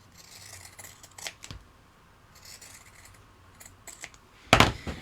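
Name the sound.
scissors trimming material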